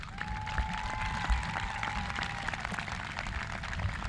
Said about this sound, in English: So I want them to get a round of applause.